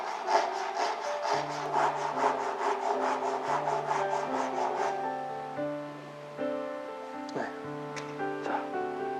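A hand saw cuts wood with a quick, steady run of about a dozen back-and-forth strokes, then fades out. Tonal music plays underneath throughout.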